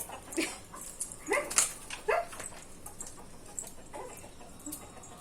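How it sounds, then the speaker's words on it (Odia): Chickens clucking nearby while pecking at grain put out for pigeons, a few short bursts of calls in the first two seconds, then quieter intermittent clucks, with no talking. "ଦେଖୁନା ପାରାକୁ ସବୁ ଖାଇ ଦଉଛନ୍ତି କୁକୁଡ଼ା ମାନେ।"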